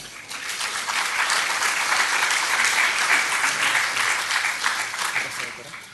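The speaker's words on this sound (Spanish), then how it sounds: "Un aplauso para ellas." An audience applauds steadily, a dense wash of many hands clapping that swells and holds evenly for several seconds, with no talk over it.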